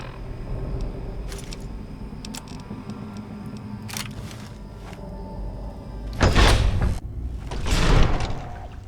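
A door opens with a few scattered clicks and knocks of the latch, then two heavier, louder thumping swings near the end, close and dry against a quiet room.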